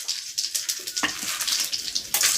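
Mustard seeds and chana dal crackle and sizzle in hot groundnut oil in a kadai, a busy close hiss with sharp pops and spatters.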